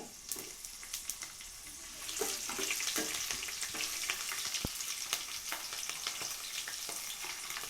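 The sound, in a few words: green chillies frying in hot oil with tempering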